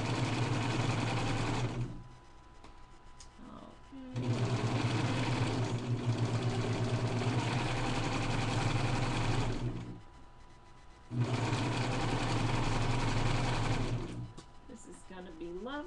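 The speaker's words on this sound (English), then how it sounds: "we're going to continue sewing" A sewing machine stitches a fabric chill stopper in three steady runs of rapid, even whirring, with short pauses between runs where someone speaks quietly.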